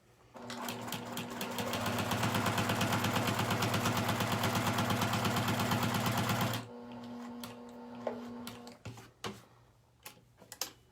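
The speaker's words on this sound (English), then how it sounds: "So you want to sew like right up to the edge and then around the corner." Sewing machine stitching a square in a square quilt block, a fast, steady mechanical chatter running for several seconds before stopping, followed by a few light clicks and taps.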